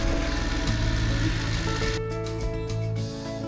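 A Voge motorcycle with its stock exhaust runs at a steady idle close by. The low, even engine tone has a harmonic hum and dips slightly near the end.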